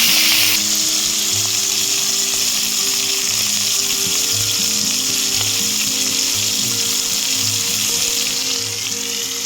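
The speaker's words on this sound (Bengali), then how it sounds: "চিংড়ি মাছ এগুলো ভেজে নেব" Prawns frying in hot oil in a village kitchen, a loud continuous sizzle and crackle that runs unbroken throughout, with a faint repeating hum underneath and no talking.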